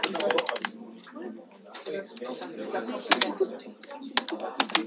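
Rapid clattering keystrokes on a computer keyboard while writing HTML, close and crisp in quick uneven bursts, with someone talking over the typing.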